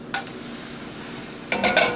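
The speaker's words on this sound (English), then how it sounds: "you can just try and flip it in the pan" A crepe is flipped in a hot pan, giving a brief clatter of pan contact at the start, then a quiet sizzle, then a burst of scraping and clinking near the end.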